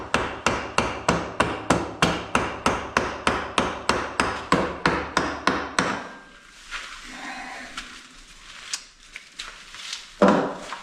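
A wooden mallet knocks a drill bit stuck in wood loose with about fifteen evenly spaced, loud hard blows, then stops, leaving a few quieter knocks and scrapes.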